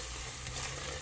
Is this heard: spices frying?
yes